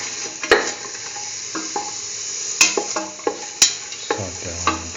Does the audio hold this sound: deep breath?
no